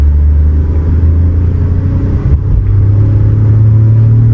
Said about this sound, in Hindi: तो आप देख सकते हो इंजन आवाज़ सुन सकते हो